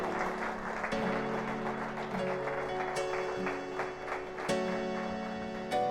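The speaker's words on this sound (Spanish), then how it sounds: "Dar un aplauso a Dios" A church congregation claps together during a service, with brisk, even claps running steadily through the whole stretch over sustained musical tones.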